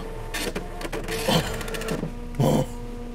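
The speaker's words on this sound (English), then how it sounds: "Printing newsletter now." A printer in a video game prints a library newsletter: a steady mechanical whir with rattling clicks, swelling in two louder bursts, heard alone without voices.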